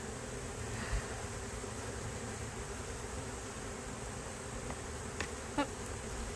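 Honey bees swarming around an open hive, a continuous dense buzzing drone close by, with a few brief louder passes of individual bees and no voices.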